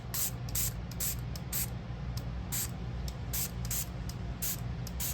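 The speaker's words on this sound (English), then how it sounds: "Now I'm going to grab some of our model spray glue that we have." Model spray glue hisses onto static grass scenery in a steady run of short spray bursts, close by, repeating at an even rhythm.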